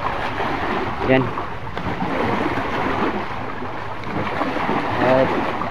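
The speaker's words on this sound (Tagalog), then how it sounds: "Ang lalaki ng alon." Large waves roll on a stormy sea during a typhoon while fishing offshore, with wind buffeting the microphone and a continuous surging wash. A voice speaks briefly over it.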